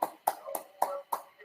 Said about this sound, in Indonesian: Beri tepuk tangan dulu buat Zulfikar